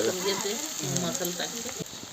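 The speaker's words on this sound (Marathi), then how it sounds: "आणि आता फोडणी देते बघा ते चांगलं तापलंय" Onion sizzles and fries in hot oil for a tempering in a pan over a wood-fired stove, a steady crackling sizzle heard close but faintly, with someone speaking over it.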